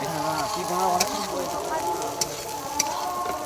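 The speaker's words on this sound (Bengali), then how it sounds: "পেঁয়াজটা আমরা ভালো করে ভেজে নেবো।" Onions frying in oil in a home kitchen pan, a steady sizzle with occasional stirring clicks, under a person talking throughout.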